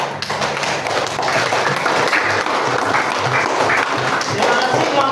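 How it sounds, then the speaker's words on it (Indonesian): A classroom of students applauds a group after its presentation in an Islamic history lesson. The clapping is dense and continuous, loud and close, with some voices underneath. "Beri aplaus tepuk tangan."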